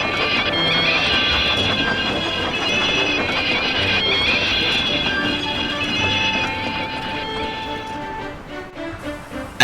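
A long train with brakevans rolls past in a loud, continuous rumble with squealing wheels and rattling wagons, easing off and thinning out toward the end.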